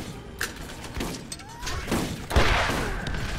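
Shotgun blasts in the shooter Borderlands, a few sharp scattered shots with glassy crashes and thuds in a busy game mix, moderately loud, no talk.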